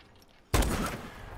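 A single loud gunshot in a video game bursts sharply out of near silence, followed by a ringing, noisy decay.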